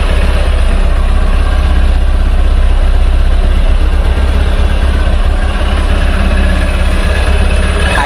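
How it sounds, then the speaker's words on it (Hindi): A 160cc motorcycle engine idles steadily for the whole stretch, its exhaust note a dense, even low rumble with constant vibration, close and loud, with no talking over it. "आइए अब मैं आपको इस बाइक के इंजन का साउंड सुनाता हूं और इसी के साथ साथ इसका एग्जॉस्ट नोट भी सुनाता हूं"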